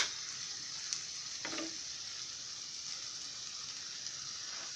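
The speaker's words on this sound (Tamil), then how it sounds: "நம்ம ஒரு 5 நிமிஷம் எண்ணெயில் தான் அப்படியே நம்ம வதக்க போகிறோம்" Chopped vegetables and tomato sautéing in oil for rava kichadi, a soft, even sizzle close by with a couple of brief stirring clatters, no talk.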